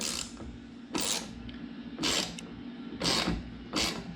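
A ratchet wrench tightens roof rail bolts on a 2017–2022 Honda CR-V, giving about five quick bursts of clicking pawl spaced roughly a second apart, close and fairly quiet.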